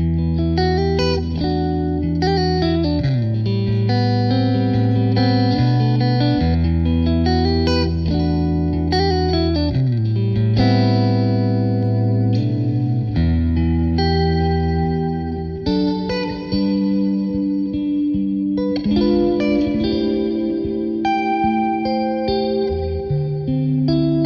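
An electric guitar plays sustained chords through a Fender Dual Marine Layer reverb pedal, drenched in lush reverb and chorus, notes washing into each other with long ambient tails.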